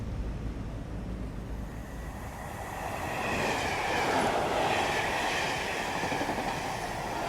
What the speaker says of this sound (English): And I like to watch the trains go by.